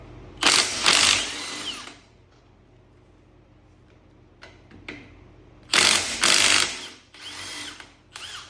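A powered tool spins a 21 mm socket to remove the trailing arm bolts on a Grand Marquis, giving two loud whirring bursts nearby, separated by faint clicks and handling noises.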